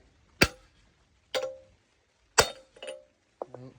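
A hammer strikes the wheel hub and bearing on a Honda Civic coupe during a big brake kit fit, producing four sharp metallic bangs with ringing decay at uneven intervals, followed by a brief clink.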